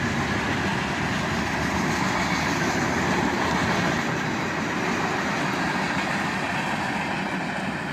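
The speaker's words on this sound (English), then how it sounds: "And there goes the end of that train" A CSX freight train led by multiple SD70MAC and Dash 8 locomotives with a road slug passes close by, its cars producing a loud, steady rumble and clatter throughout.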